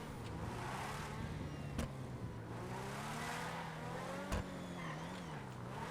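The Deveste 8 supercar in GTA V gives a steady high engine drone that rises and falls with revving, its pitch sweeping as it corners, with a couple of sharp clicks and no talk.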